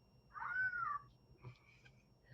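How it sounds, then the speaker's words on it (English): A noisy cat toy ball gives out a meow-like animal call that rises and falls, followed by fainter chirps over a low background hum, fairly close. "It is a toy ball that makes noise."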